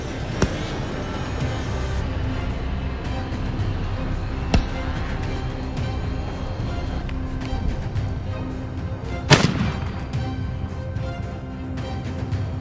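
A single sharp rifle shot cracks out during a wild boar hunt on a farm, rising abruptly from a steady outdoor background hum and decaying quickly, with a few fainter clicks earlier.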